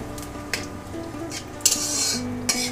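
Cumin seeds and torn bay leaves hitting hot oil in a pan, a soft sizzle with a few crisp spitting bursts and light clinks of a utensil against the pan, close and without talk.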